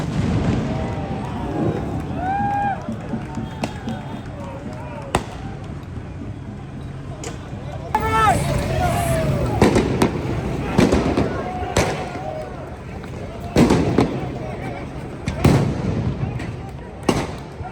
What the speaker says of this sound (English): These are massive fireworks.